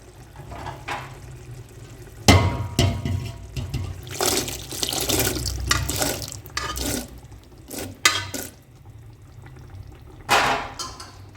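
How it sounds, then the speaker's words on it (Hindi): Boiled chickpeas pour into masala in a pot in several splashy, liquid bursts, loud and near, with quieter gaps of dripping and sloshing between them. "तो चलिए मैं अब इसमें छोले डालती हूँ।"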